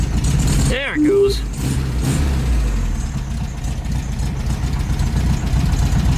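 An old VW Beetle engine idles low and cold after distributor and throttle cable work, a steady low rumble under a short burst of speech and a brief squeaky tone near the start.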